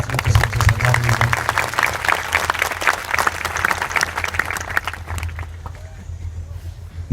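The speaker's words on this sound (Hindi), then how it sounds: "एक बार कालू भाई के लिए जोरदार तालियां बजा करो" Loud, close applause from a gathering paying tribute to Kalu Bhai, with vigorous rhythmic clapping over a low hum for about five seconds before dying away to quieter background.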